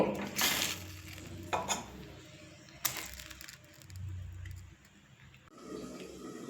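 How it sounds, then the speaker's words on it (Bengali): Fried chicken pieces and potatoes sautéed in a pot for biryani over medium flame, with intermittent spoon scrapes and clatter over a soft sizzle, fairly quiet and close. "দেখুন চিকেন আর আলু তো কষা হচ্ছে"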